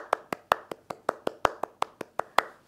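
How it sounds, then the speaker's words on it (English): Hands clapping in an even rhythm, about a dozen crisp, close claps evenly spaced and without voices, for a kids' singing lesson. "Clap for yourselves."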